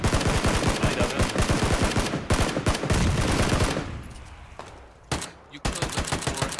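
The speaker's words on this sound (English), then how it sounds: "You had another guy shooting at you" Rapid bursts of automatic gunfire in Battlegrounds, dense and loud for about four seconds, then a quieter stretch broken by a few isolated sharp shots.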